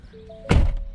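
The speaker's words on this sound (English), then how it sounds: "Now watch, when I open my door" A single solid thunk of a car door latch releasing, short and close, in an otherwise quiet space, as the car's interior lights stay off.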